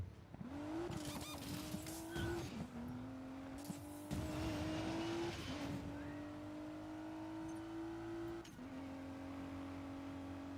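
A racing car in the Need for Speed video game, with a steady engine drone climbing through gear changes and tire squeal and skidding mixed in, loud and continuous with no talking.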